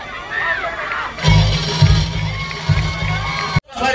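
Crowd at a Dahi Handi competition in Rajapur cheering and clapping, loud sustained roaring voices and shouts with a loudspeaker voice mixed in, cutting off abruptly near the end.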